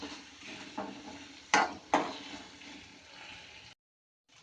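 Onions fry in a pan for vegetable fried rice, giving a low steady sizzle and hiss broken by a couple of sharp scraping stirs, close by, before the sound cuts briefly to silence.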